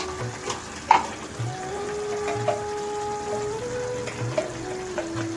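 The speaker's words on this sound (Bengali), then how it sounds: "আমাদের কচুর শাক রান্না চলছে" Taro leaves (kochu shak) cook in a pan with a steady, close, low sizzle and occasional stirring clinks and taps, with no talk over it.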